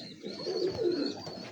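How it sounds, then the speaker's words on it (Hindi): A single soft, close coo from a pure Kasuri pigeon, a brief low throaty murmur with no other sounds around it. "प्योर कसूरी कबूतर है ये"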